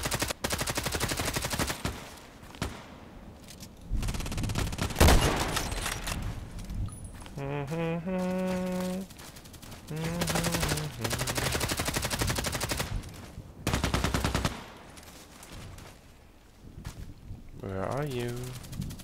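Rapid gunfire from a first-person shooter match on the Old Sawmill map, in bursts of repeated shots that come and go across the clip, with a player talking over parts of it.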